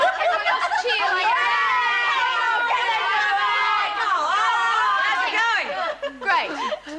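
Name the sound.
women cheering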